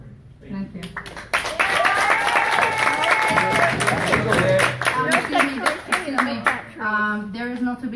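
Loud, sustained applause from an audience during public comment at a public meeting, dense clapping that fills the room for several seconds, with a few voices mixed in.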